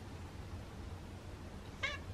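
A white cat lets out a single short meow near the end, close by and fairly clear over a low steady room hum, with no one speaking.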